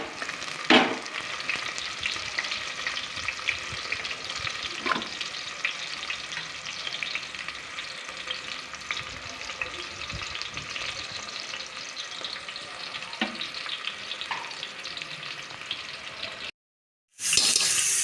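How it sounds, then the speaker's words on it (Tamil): Onions sautéing in oil with popped mustard seeds give a steady, dense sizzle and fry throughout, with a few sharper crackles and light stirring knocks; the sound cuts out briefly near the end, then returns. "ஈரங்கத்தை நல்லா வதங்க விடலாம்."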